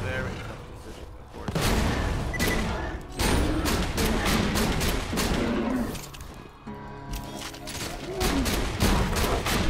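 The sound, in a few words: shotgun fire in the video game Borderlands 2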